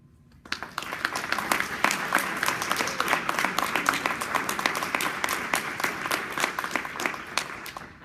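After a brief quiet moment, applause breaks out from a botany conference audience following a research talk, with distinct individual claps rising into a steady, moderately loud round that continues to the end.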